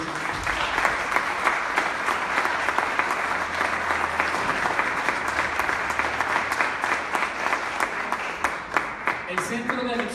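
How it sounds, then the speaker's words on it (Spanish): An audience applauds for Brisa with dense, sustained clapping from many hands that holds steady throughout, with a faint voice underneath near the end. "yo les pido de favor que le den un aplauso a Brisa"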